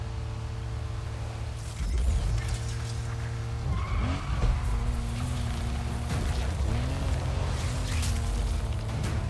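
A Land Rover races in NFS Unbound, its engine droning in steady harmonic tones before revving and swooping up in pitch, with tires skidding and squealing over continuous loud road noise.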